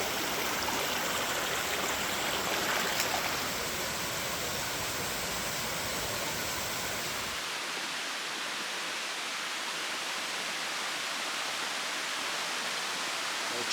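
A clear mountain stream at Turure Watersteps in Trinidad rushes steadily and close, a broad unbroken wash of flowing water that grows slightly more muffled and softer partway through.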